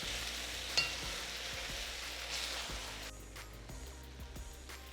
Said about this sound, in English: Now you want to allow the beef to get some brown, to sear the lovely juices into the meat.